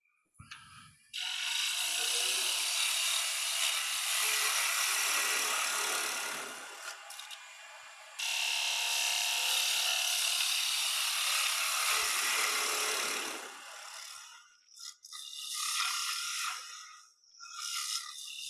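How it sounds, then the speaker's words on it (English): A gouge cuts wood on a lathe, giving a rough, scraping hiss in two long passes of several seconds each, followed by shorter broken bursts and pauses; nearby and fairly faint. "I kind of slide my gouge back and forth to kind of see where the bumps are"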